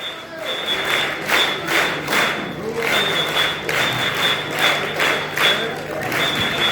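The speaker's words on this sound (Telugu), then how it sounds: "3 చైర్ క్లాప్స్ అమ్మా, 3 చైర్ క్లాప్స్ కొట్టాలి." Audience at a school opening ceremony in Palasa claps together in three rhythmic bursts, moderately loud and spread across the hall, with a steady background tone and crowd murmur underneath.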